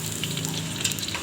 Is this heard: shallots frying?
yes